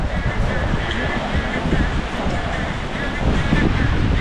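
Seaside waves and wind at a beachfront seafood restaurant form a constant rushing surf and gusty wind roar, close and unbroken for the whole stretch.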